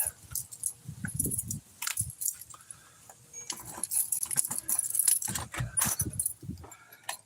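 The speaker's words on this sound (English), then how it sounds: "This is the eagle's keys." A set of keys jangles and clinks in bursts throughout, handled close by, with faint road and vehicle noise in the background.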